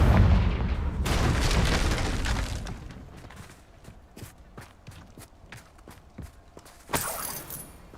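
Confringo fire spell cast in the Hogwarts Legacy video game: a loud rushing blast at the start, then a run of quick rhythmic thuds and a final burst near the end.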